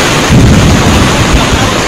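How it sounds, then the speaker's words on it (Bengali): Heavy rain pours down at the beach in Puri, a dense, steady roar with low rumbling and wind buffeting the microphone, loud and continuous throughout with no talking. "প্রচন্ড জোরে বৃষ্টি হচ্ছে।"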